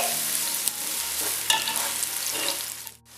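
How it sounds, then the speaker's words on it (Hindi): Onions sizzle and fry steadily in a hot pan for rice, a dense crackling hiss with occasional stirring scrapes, close and continuous until it cuts off at the end. "अब मैं इसमें प्याज शामिल कर रही हूँ और इन्हें 1 मिनट के लिए फ्राई कर लेंगे"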